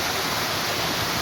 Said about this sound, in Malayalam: അടിപൊളി വെള്ളച്ചാട്ടം